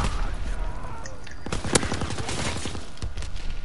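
Rapid bursts of machine pistol fire rattle in a WW2 shooter game, a quick run of close, sharp shots packed together, with faint voices in the background.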